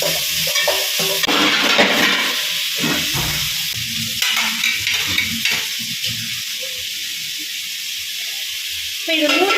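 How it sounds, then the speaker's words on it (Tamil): About four thinly sliced onions sauté in a pan for a Ramadan biryani, giving a steady close sizzle and hiss with stirring clatter, while a voice talks intermittently over the frying. "வெங்காயம் நல்லா வதங்கிட்டோம்."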